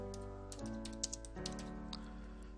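Keys tapped on a computer keyboard in a short, uneven run of light clicks, close and fairly quiet over a steady background hum, with no talking.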